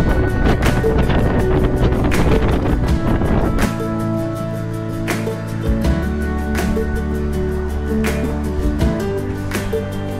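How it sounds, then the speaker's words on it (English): Steady wind rushes and buffets across a mountain trail on Grandfather Mountain, a loud continuous roar with gusty broadband noise throughout, no voices. "And some wind."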